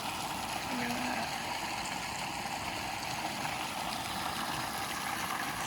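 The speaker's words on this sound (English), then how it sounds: "I just came around the back and saw where they're draining off tons of this hot water" Hot spring water drains off in volume at Thermopolis Hot Springs, Wyoming, making a continuous rushing, trickling flow heard close by.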